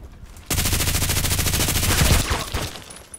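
A loud machine gun in the online shooter Contract Wars fires one long, continuous burst of rapid shots at close range, with no talking.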